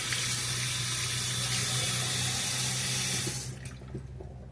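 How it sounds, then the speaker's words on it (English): Tap water runs steadily into a kitchen sink while seeds are rinsed out, a loud, close, continuous hiss that cuts off sharply near the end, leaving quieter room sound. "I want to wash a lot of those seeds out"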